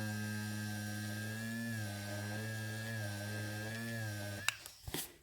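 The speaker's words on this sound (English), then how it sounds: "I have my Derwent electrical eraser." A Derwent electric eraser whirs steadily against pencil marks with a thin, high, slightly wavering motor buzz that runs close and continuous for several seconds, then stops with a few small clicks and taps.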